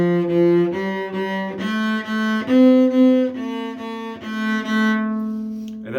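A cello plays two measures of a piece, a short bowed phrase of several connected notes, close and clear, ending on a fading held tone.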